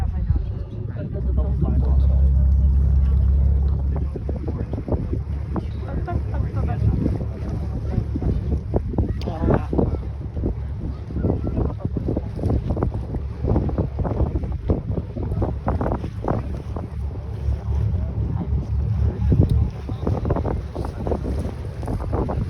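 Steady engine rumble and wind noise from a boat on open water in Waterton-Glacier National Park, with voices talking over the continuous low drone.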